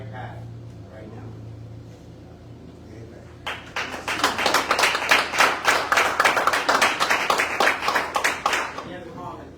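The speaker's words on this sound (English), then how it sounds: "You guys all deserve an applause" A small group at a city council meeting breaks into applause after a few seconds of quiet talk and room murmur. The clapping is close and lively, with rhythmic bursts that carry on for several seconds.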